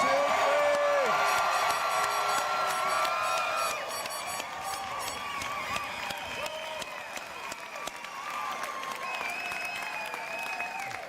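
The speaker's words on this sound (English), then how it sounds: "So 1, 2, 3, huge clap and whoop it up." Guests at an Air National Guard annual awards banquet break into loud, sustained clapping mixed with whoops and cheers from many voices. The noise fills the room steadily from start to finish.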